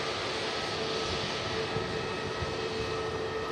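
An EasyJet airliner passes at Manchester Airport with a steady, moderately loud engine rumble and whine holding evenly throughout, with no talking over it.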